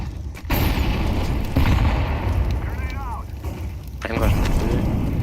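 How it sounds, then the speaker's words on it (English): A flashbang grenade bursts in a tactical shooter game, a loud blast followed by a sustained harsh roar and further booms under players' voices. "Throwing flashbang."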